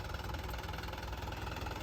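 A 575 tractor stuck in a pothole with its underside grounded, engine idling in a steady low rumble with a faint rhythmic knock, close and continuous.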